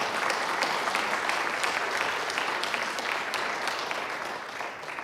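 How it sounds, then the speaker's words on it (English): A church congregation applauds after a worship service at a congregational gathering, steady dense clapping filling the room at an even level for several seconds before easing slightly at the end. "Can we have applause for that wonderful worship service?"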